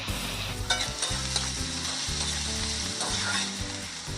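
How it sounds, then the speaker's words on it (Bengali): Boiled vetkul greens stalks fry in hot oil with black cumin, green chilli, turmeric and salt, a steady loud sizzle broken by stirring clatter, with no talking. "কালো জিরে কাঁচা লঙ্কাটা একটু ভাজা ভাজা করে নেব"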